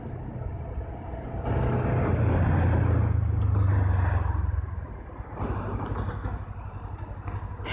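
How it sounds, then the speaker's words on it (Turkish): Traffic rumbles nearby, heard while riding a Suzuki GSX-250R motorcycle, with a heavy vehicle swelling past in the middle before the steady road noise continues. "bu trafik gürültüsünden de kurtuluruz"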